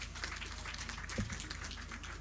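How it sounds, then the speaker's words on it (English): Audience applause at a launch event for Uganda's natural resource information system, a faint, even spread of clapping from a crowd, steady and distant with a low hum beneath. "A round of applause, ladies and gentlemen"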